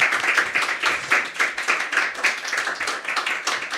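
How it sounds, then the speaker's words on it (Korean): A church congregation at a Sunday worship service claps steadily to welcome a guest lecturer, dense continuous applause from many hands close by with no talking over it. "우리 박수로 환영하겠습니다."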